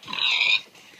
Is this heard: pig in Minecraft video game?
yes